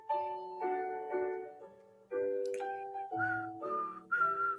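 A person whistles a short tune of several sustained notes in distinct phrases, fairly close and clear, with no talking.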